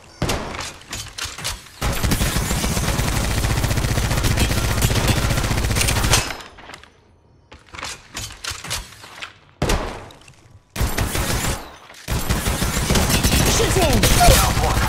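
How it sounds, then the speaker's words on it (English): Repeated gunfire bursts in the Apex Legends Mobile battle royale, loud and dense in long stretches broken by short quiet gaps, with game voice callouts and speech over the shooting. "I'm getting shot at."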